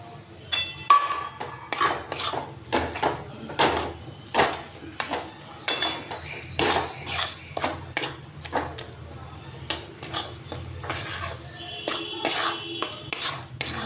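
Sweet modak filling of grated coconut, sugar and milk powder stirred in a pot for Ganesh Chaturthi, a spoon scraping and clinking against the metal in a steady irregular rhythm, fairly close, with no talking.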